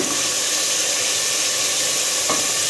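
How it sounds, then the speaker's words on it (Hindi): Spinach sizzles loudly in a cooking pot as it is stirred, releasing its water, a steady close hiss of frying and steam with a brief clatter of the stirring utensil near the end. "इसमें ये मैंने पालक डाल दी, पालक थोड़ी सी पकेगी"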